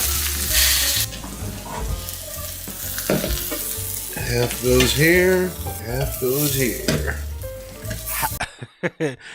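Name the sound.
food frying in a pan on an electric stove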